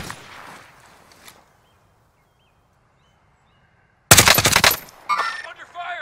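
Gunfire in the Warzone video game: after near silence, a sudden loud burst of rapid automatic shots, followed by further cracking shots and a short echoing tail.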